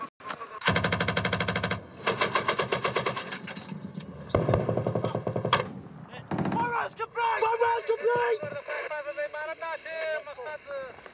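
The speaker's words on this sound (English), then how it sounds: "that's all weapons systems test fired" Military weapon systems including a .50 cal test fired in Nowzad district, Afghanistan, long rapid bursts of heavy machine-gun fire separated by gaps, with someone talking over the later part.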